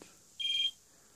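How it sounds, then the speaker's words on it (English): Mitsubishi MT8 vintage ETACS brick phone giving its low battery warning: a single steady electronic beep of about a third of a second, clear and close, with quiet room background and no talking. "It's already beeping the low battery"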